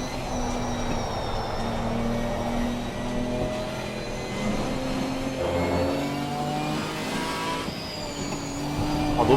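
A Ginetta GT4 race car engine rises and falls through gear changes around the Suzuka circuit in the ACC racing game, a steady, loud in-car drone with shifting pitch and a faint squeal of tyres.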